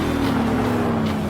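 A Pagani Zonda is driven hard around a race track, giving a steady, droning engine note with a slightly falling pitch. The sound is close and continuous for the whole brief moment.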